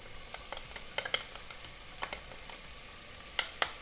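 Garlic sautés in hot oil with onions in a pan, making a faint, soft sizzle broken by a few sharp clicks and taps of a utensil against the pan.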